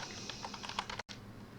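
Fingers tap out a quick run of keystrokes on a computer keyboard, close and fairly quiet clicks, broken by a brief dropout of sound before faint keyboard noise resumes.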